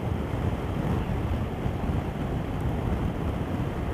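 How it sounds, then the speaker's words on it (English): Loud, constant wind roar buffets the microphone while riding a KTM Super Adventure S motorcycle at 110, a dense rushing blast with no pauses. "It's quite windy today."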